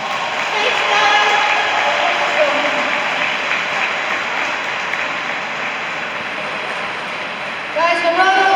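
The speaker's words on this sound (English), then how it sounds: "Guys, a round of applause!" Sustained applause from a convention audience cheering panel guests, a dense steady wash of clapping over the whole stretch with a voice breaking in near the end.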